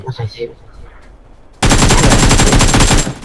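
Gunfire in PUBG Mobile breaks out suddenly as a loud, sustained rapid-fire burst after a brief quiet stretch with faint voices.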